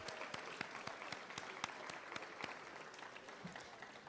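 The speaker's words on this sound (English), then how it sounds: "So give yourselves a big round of applause." An audience at a fundraising coronation gala applauds, with steady, fairly faint clapping from a roomful of people that holds even for several seconds.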